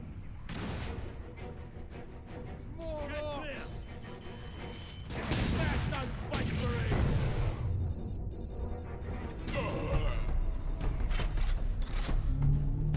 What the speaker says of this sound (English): I want to try out our new gun here